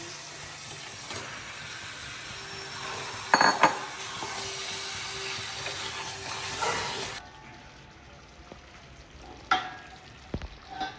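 Chicken pieces with yogurt and spices sizzle in a pan as they are stirred, giving a dense crackling fry with metallic clinks of a spoon, then the sizzle drops to a quieter simmer with a few scrapes.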